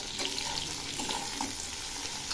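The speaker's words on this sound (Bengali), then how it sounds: "আর সেই সঙ্গে দিচ্ছি বড়িগুলো। একটু নেড়ে দিচ্ছি।" Eggplant frying with slit green chilies and bori as it is stirred in the pan, a quiet even sizzle with faint stirring taps.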